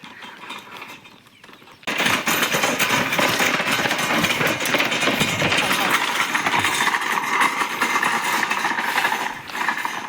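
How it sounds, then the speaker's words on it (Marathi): A motorcycle engine idles and runs steadily nearby on a village road. It starts abruptly after a quieter opening and continues under people talking, alongside a bullock cart. "पुढं मोटरसायकल आहे"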